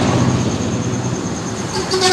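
A Fajar Rio Wisata bus on the road to Dumai sounds its horn, a loud, close toot that rises near the end over steady engine and road rumble.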